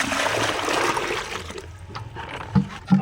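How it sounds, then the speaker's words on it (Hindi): Water pours into a bucket, a steady rushing splash that thins into trickling and dribbling near the end, with a couple of hollow knocks against the bucket, close and fairly loud with no talking. "इसमें हम पानी भर रहे बाल्टी में"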